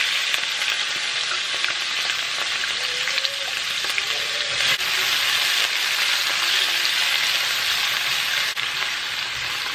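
Vegetables sautéing in a pan over low to medium heat for a Jamaican ackee and saltfish breakfast, a steady close sizzle running throughout with faint occasional stirring, no voices.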